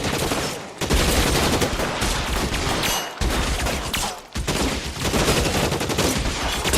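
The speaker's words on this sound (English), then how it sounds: "Lay down some covering fire!" Covering gunfire in L.A. Noire, loud sustained bursts of automatic fire and rapid overlapping gunshots in a police shootout, broken by a few brief pauses between volleys.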